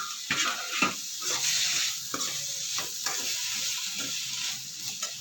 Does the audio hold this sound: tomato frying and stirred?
yes